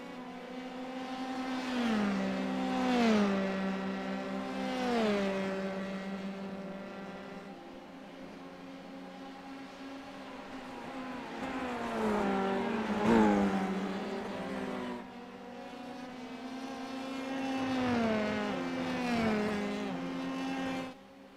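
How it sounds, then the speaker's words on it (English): Race cars in a racing video game, engines rising and falling through repeated gear shifts, with several cars passing and revving at moderate volume. "Jared Ziegler, the number 57 machine, doing his best to fend off Josh Green."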